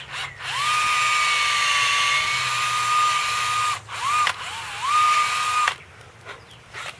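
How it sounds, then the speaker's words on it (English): A cordless power drill bores a hole into a tree trunk for an insecticide capsule, a steady high whine running several seconds, pausing briefly, then spinning up again before stopping. "Drill my hole."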